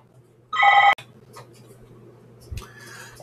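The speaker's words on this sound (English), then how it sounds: "Please excuse that phone ringing." A telephone rings once in a short electronic burst during a live classroom screencast recording, near and clear against quiet room hiss, followed by faint small noises.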